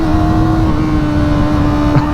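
A Kawasaki ZX4RR motorcycle's engine pulls hard while accelerating out of a corner on a first ride, a loud, steady high-pitched whine sustained throughout the short stretch, close to the rider.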